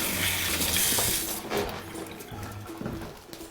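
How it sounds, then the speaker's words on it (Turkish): Tap water runs steadily into a kitchen sink as hands are washed, a continuous near splashing hiss with slight shifts as the hands move under the stream. "Ben hemen ellerimi yıkıyorum."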